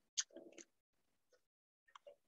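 Crisp bites into garlic and seasoned salt kale chips, one loud close crunch followed by a few quieter chewing crackles with silence between.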